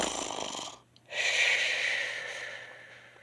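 A reader imitates a bear and its friends snoring in a children's story, giving two long breathy snorts split by a brief pause, close and fairly loud, without other talk.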